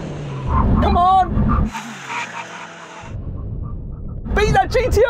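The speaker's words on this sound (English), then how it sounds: "We're going to do a brake test from 100 miles an hour. When we reach the line, full emergency stop." A Formula One car, a Lamborghini and a Nissan GT-R NISMO brake hard to an emergency stop from 100 mph on a test track, producing loud rumbling and tyre noise, with excited shouting voices over and around it.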